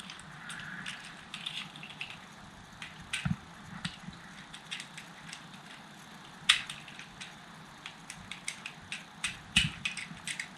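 Plastic G1 Transformers Jetfire toy handled stiffly, its joints giving scattered faint clicks and creaks at irregular intervals, with a couple of sharper snaps standing out against a quiet room hum.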